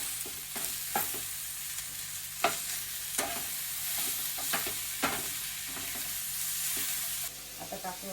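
Chopped tomatoes sizzle in a hot pan for a paneer curry while a spoon stirs them in repeated scraping strokes, the frying hiss close and continuous beneath the clatter.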